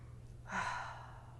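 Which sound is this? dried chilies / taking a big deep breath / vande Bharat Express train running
taking a big deep breath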